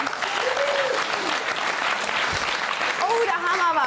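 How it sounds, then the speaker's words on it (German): Studio audience applause on a German TV talk show, a dense steady wash of clapping filling the whole stretch, with voices and brief vocal tones rising over it near the end. "da haben aber viele Männer hier geklatscht"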